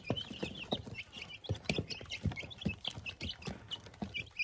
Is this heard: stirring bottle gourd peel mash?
no